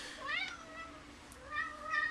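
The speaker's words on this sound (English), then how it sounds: "I'm sorry about my cats here. They're a real pest." Cats meow close by, with two drawn-out rising meows, one at the start and one near the end, over a faint steady indoor background.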